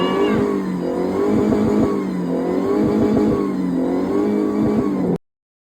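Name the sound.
car engine revving while trying to climb a rough road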